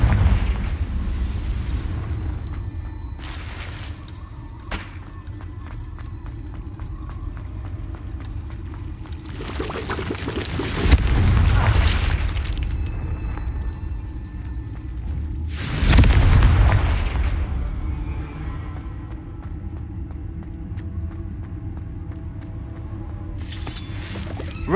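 Confringo explosive spell blasts from the Hogwarts Legacy video game: two loud, booming explosions a few seconds apart, each with a crackling burst, over a steady low game ambience with faint rumbles between them.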